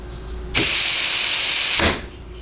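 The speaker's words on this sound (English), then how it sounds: "all the air you're hearing is out of the nozzle" Compressed air hisses out of a nozzle in one steady, loud broadband burst of a little over a second, beginning abruptly and tapering off, while working on 6R80 transmission subassemblies in a workshop.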